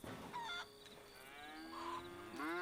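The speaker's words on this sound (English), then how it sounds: "That's a Florida cracker cow." A Florida cracker cow in Red Dead Redemption 2 lets out a couple of drawn-out, fairly quiet moos, one early and a longer one near the end, with no talking.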